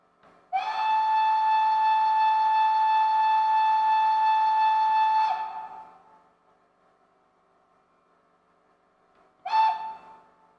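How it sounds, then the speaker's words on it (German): Heard up close, a Gauge 1 class 56 model steam locomotive whistle sounds one long shrill blast lasting about five seconds, followed after silence by a quick short toot. "Die Pfeife jetzt nochmal aus der Nähe."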